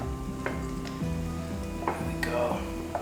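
Crisp bacon sizzles steadily in a pan of its own rendered grease, with a few sharp scrapes and taps of a utensil against the pan over the continuous close, crackling hiss.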